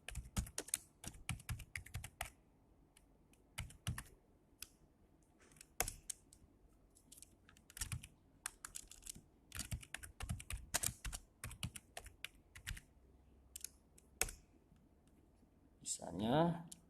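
Scattered computer keyboard keystrokes and Enter presses while adding answers in Google Classroom, sharp isolated taps with pauses between, close and clear, with a brief voice near the end.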